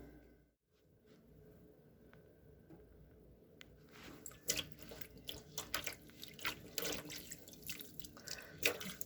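Sea moss is rinsed under running water at a sink. The quiet trickle builds into close, splashy sloshing and dripping as the moss is handled in the stream.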